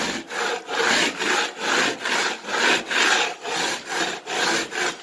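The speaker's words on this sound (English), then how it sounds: "Now you can also scrape with this." A hand scraper works dry across a popcorn ceiling in about ten steady back-and-forth strokes, each one a close, loud, gritty rasp with no talking.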